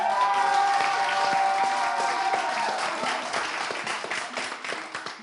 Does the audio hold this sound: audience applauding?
yes